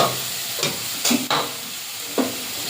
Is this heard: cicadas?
no